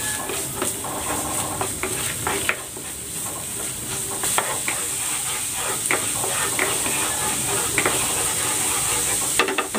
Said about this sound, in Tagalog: Magigisa na ako dito ng bawang.